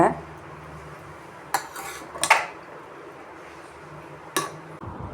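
Cooked rice bath stirred in a pressure cooker pot, with a few sharp metallic clinks and scrapes of a ladle against the metal rim over a quiet background, close and sparse.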